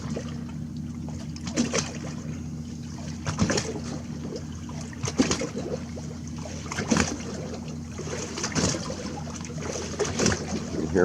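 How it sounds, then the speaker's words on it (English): A small fishing boat rocks in a passing wake on near-slack tide. Its hull thumps and slaps the water in repeated bursts about every couple of seconds over a low steady hum and trickling water. "You can hear my boat bouncing."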